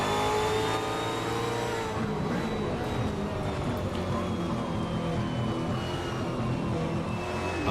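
An Aussie V8 Championship race car howls in a sim racing game at Townsville, its engine revving high and loud with gear changes and smooth pitch sweeps, and a commentator talks over it.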